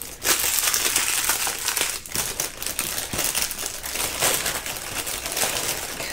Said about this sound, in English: Let's put all these little plastic bags in the bigger bag.